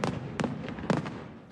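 A large fireworks display bursts over Copenhagen, sending several distant crackling pops and bangs in quick irregular succession over a soft crowd-like background.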